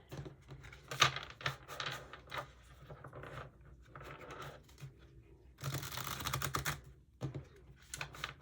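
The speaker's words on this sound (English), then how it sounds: "So I'll shuffle the cards as I tune in further" Tarot cards shuffled by hand in close, dry bursts of riffling and slapping, starting and stopping in uneven clusters with short pauses between.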